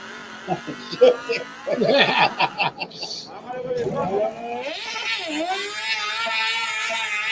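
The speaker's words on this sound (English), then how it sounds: "That's a Hayabusa engine is what that is." A pulling vehicle fitted with a Hayabusa engine runs with a high, buzzing whine that rises and holds at a strained pitch, heard at moderate distance under people talking close by.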